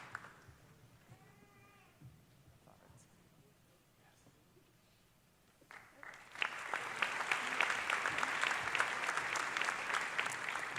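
Audience at a medical college hooding ceremony bursts into loud, dense applause for the award winners after a few quieter seconds of faint room noise and a brief voice.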